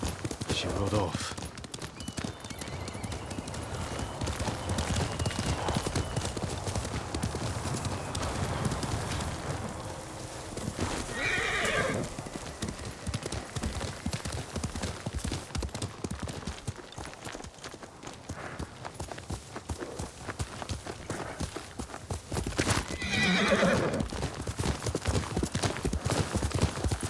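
Horse hooves clip-clop steadily through a Ghost of Tsushima game scene, with brief bursts of other sound at intervals and people talking over much of it; a neigh may be mixed in but is not distinct.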